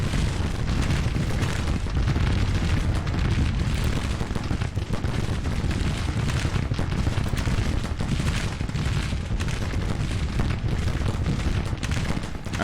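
Civil War battle gunfire and artillery in the strategy game Grand Tactician: The Civil War. Dense, continuous musket volleys and booming cannon blasts overlap with no breaks, loud and rumbling throughout.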